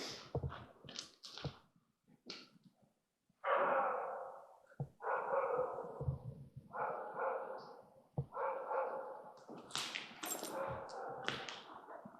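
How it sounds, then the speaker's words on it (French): A dog barks repeatedly in short bursts, spaced irregularly and heard somewhat distant in a quiet night setting, interspersed with faint clicks and breaths. "Du coup, vous entendez un chien."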